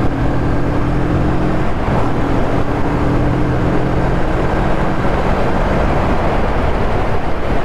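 A Moto Morini Seiemmezzo STR motorcycle engine roars close up, its pitch climbing as it accelerates, mixed with constant loud wind rush.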